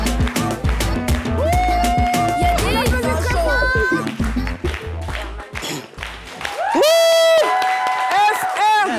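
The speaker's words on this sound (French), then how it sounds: "On applaudit encore très fort pour notre artiste" Studio audience on a French TV variety set applauding and cheering for a performer, with loud music, a sustained singing voice and a host talking over the crowd noise.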